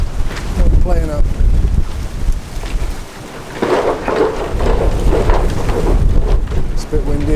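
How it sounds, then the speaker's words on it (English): Strong outdoor wind buffets the microphone in loud low rumbling gusts near Airbus Filton, easing briefly before surging again, with a voice speaking through the noise. "It's a bit windy, isn't it?"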